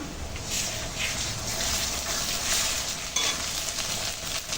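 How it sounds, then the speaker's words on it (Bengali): Ginger-garlic paste goes into onions already frying in a pan for a chickpea curry, giving a loud, dense, continuous sizzle with light stirring, close and without speech. "পেঁয়াজটা দেখো সুন্দর করে ভাজা হয়ে গেছে তো এখন আদা রসুন বাটাটা দিয়ে দিলাম"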